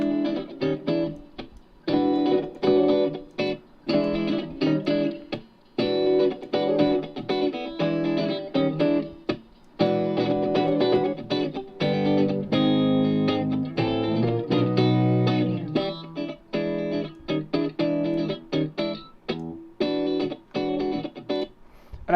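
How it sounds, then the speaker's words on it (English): A funky, double-tracked electric guitar riff plays through distortion and chorus effects, with choppy rhythmic chords and short gaps, loud and steady throughout with no talking. "I think I did do something really right here with this double tracking part"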